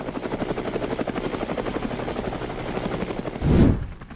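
A CH-53 heavy-lift helicopter thunders nearby with a fast, throbbing rotor beat and a loud low rumble that swells briefly before cutting off.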